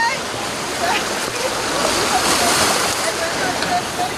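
The Chixoy River rushes in the rainy season, a loud, continuous roar of turbulent water with splashing, steady throughout with no pauses.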